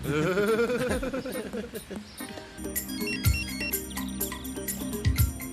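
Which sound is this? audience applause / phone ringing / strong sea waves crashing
phone ringing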